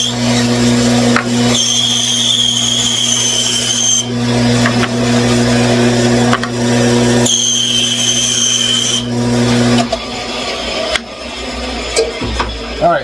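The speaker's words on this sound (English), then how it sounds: "here at the bandsaw, I'm just basically going to cut these in 2 of them here and 2 of them here" A bandsaw runs with a steady motor hum while its blade cuts through wooden pieces for a toy tank car, several whining cuts starting and stopping, then the machine winds down near the end.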